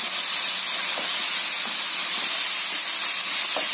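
Ground tomato hits hot frying onions in a pan while making a goat lung fry, giving a loud, continuous sizzling hiss close up with no talk.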